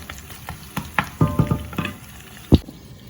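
Drumsticks stirred with fried onions in a pan for a soya meat curry, a string of scraping, clanking spoon strokes over a light sizzle, close and uneven.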